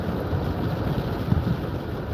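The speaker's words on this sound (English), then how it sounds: "I don't know if you can hear that wind," Strong wind rushes steadily outdoors on a snowy day in a coastal Alabama boat-building town, a dense, continuous roar buffeting the microphone with no pauses and no talking.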